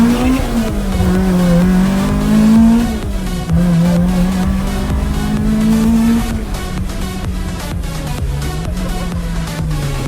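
Toyota AE86 Levin with a Beams 3SGE engine driving, its loud, high-revving four-cylinder note rising and falling steadily through the gears with a raspy, continuous drone and no talking.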